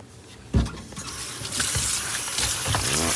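Cold tap water gushes from a faucet into a sink while raw fish is rinsed, a loud steady flow with splashy bursts as the stream hits the fish, no voices.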